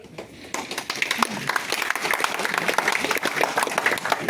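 Clapping for visitors at a DAV chapter meeting starts abruptly after a quiet moment and continues as a steady round of hands from a modest group, with some talk beneath it.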